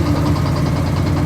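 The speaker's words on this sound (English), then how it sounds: "Yep, that's rod knock." A 1976 Dodge Club Cab Adventurer engine with rod knock runs at idle, a loud, close, rapid rhythmic knocking pulse over a steady mechanical drone, with no talking.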